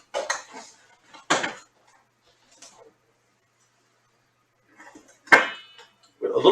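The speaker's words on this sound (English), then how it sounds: "Rinsing off a few things. Cleaning up as you go." Dishes and pans clatter and clink in a home kitchen during cleanup, a few short separate bursts with quiet gaps between them.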